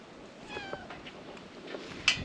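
A cat meows in a few short, moderately close calls, with one sharper, louder cry near the end over quiet room noise.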